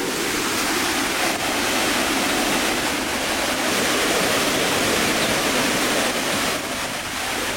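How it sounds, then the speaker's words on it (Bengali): Fast, heavy water rushing at Kangsabati Dam in Mukutmanipur, roaring like a waterfall: a steady, loud, broadband wash that runs unbroken and close throughout, with no voices. "এত স্পিডে জলটা বইছে যেন জলপ্রপাতের মতো লাগছে।"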